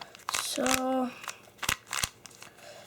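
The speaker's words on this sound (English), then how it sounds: "So I'm just shuffling it the best I can." A Rubik's 3x3 cube being shuffled, giving quick, sharp plastic clicks and twists in short bursts, with a person talking briefly in between.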